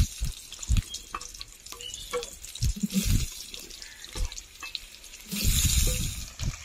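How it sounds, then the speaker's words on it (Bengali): Potatoes fry in leftover fish oil, the sizzle rising and falling in a close crackling hiss, broken by scattered knocks and clatter from utensils and a louder burst of sizzling near the end. "মাছের তেলেই কিন্তু আমি আলুগুলো ভেজে নেব।"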